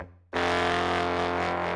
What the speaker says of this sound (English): So basically I played these horns in tandem with each other to sound like this.